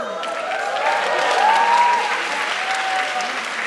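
Concert audience applauding in a large theatre hall, a steady wash of clapping from many hands at fairly close range, without speech.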